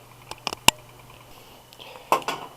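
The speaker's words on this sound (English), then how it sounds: "We'll stir that in and then bring it to the boil slowly" A spoon clinks and scrapes against a pot while black ground pepper is stirred into tomato soup, giving a few sharp metallic taps with softer scraping between them in an otherwise quiet kitchen.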